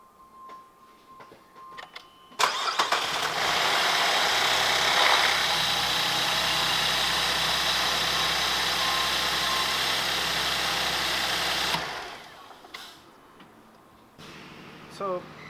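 A 2012 Chevy Traverse engine cranks and catches, then settles into a steady, fairly loud idle that runs for about nine seconds before cutting off, with faint clicks and shuffling afterward.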